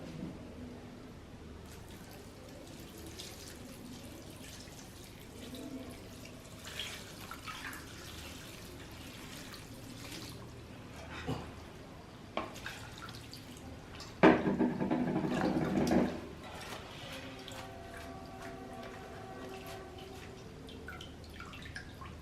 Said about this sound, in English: Now we will wash this in cold water.